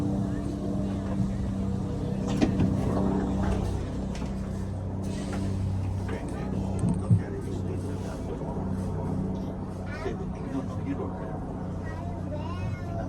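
Bronx Zoo Wild Asia monorail car moving, a low steady rumbling hum with a couple of brief knocks and rattles, while a guide talks over it.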